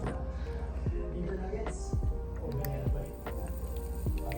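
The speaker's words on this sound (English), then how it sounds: "So, watch as I pour." A purple grape drink pours into a glass, giving a continuous liquid stream with gurgles, drips and splashes, heard close over a low background hum.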